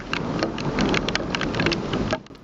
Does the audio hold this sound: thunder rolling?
yes